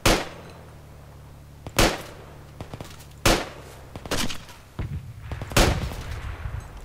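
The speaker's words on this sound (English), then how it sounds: "Shooting to scare the shit out of us, and it's working." Gunfire in the tactical military shooter Project Reality: several loud, sharp shots ring out alone at irregular intervals, with a faint engine drone between them and a few quieter cracks toward the end.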